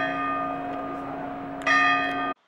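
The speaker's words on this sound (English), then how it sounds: "there's the church bell. Rings at every hour, quarter of an hour, and half hour." A church bell in Sant'Agata sui Due Golfi rings out steadily and fairly close, its tone humming on before a second, louder strike and then a sudden cutoff.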